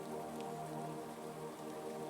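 Rain falling makes a soft, even hiss with a faint steady hum underneath, with no voices.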